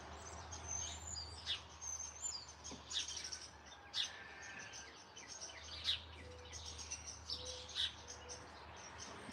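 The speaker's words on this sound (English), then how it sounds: "listening to the birds" Birds chirp and tweet repeatedly outdoors, several short calls scattered over a soft steady background hum, fairly quiet and distant.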